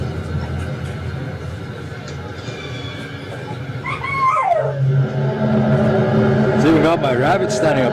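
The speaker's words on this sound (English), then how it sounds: "It's even got my dogs barking." Pet dogs at home yelp and whine in rising and falling cries, joined toward the end by a louder cluster, while a person talks over a loud background hum.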